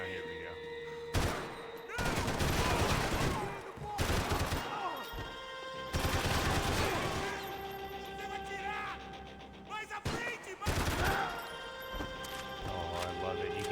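Submachine gun fire in the video game Max Payne 3, loud bursts of rapid automatic shots in several long stretches with brief pauses, mixed with game effects.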